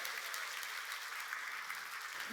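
A church congregation claps together during a Korean worship service, filling the room with a continuous, even roar of many hands from start to finish with no speech over it.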